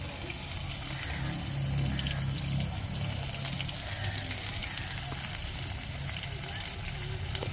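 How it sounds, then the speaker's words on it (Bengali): Chopped onions and green chili fry in oil in a pan for a rohu fish curry, giving a steady, close sizzle that runs unbroken with a soft low rumble beneath. "এটা হালকা লাল করে আমি ভেজে নেব।"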